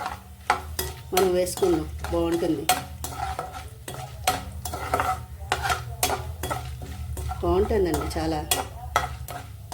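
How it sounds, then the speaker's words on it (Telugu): Mustard seeds and asafoetida frying in a pan for a Telugu amaranth-tomato curry, with a spoon scraping and clattering against the pan in repeated strokes, loud and close, while someone talks over it. "ఇవి వేగాక దీంట్లో ఇంగు వేస్తాను"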